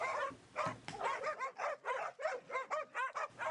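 A young pack of hunting dogs barks excitedly during a wild boar hunt in the New Zealand bush, with rapid, repeated yelps and bays, close and loud, and some whimpering between barks.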